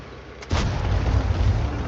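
A tank gun fires at a Panther tank in a video game, one sudden loud boom followed by a sustained low rumble that hangs on afterward.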